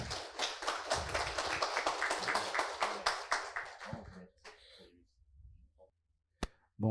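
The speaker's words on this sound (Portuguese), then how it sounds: "palmas para eles." Brisk applause from an audience at a podcast event, many hands clapping together for about four seconds, then tapering off into scattered claps and quiet.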